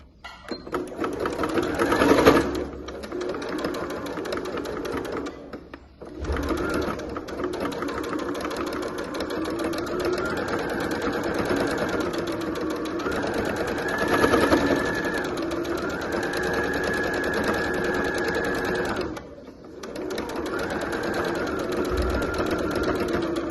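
A domestic sewing machine runs in long steady bursts as it topstitches along the seam joining main fabric and lining on a fabric wine bottle holder, with brief pauses and a short stop partway through.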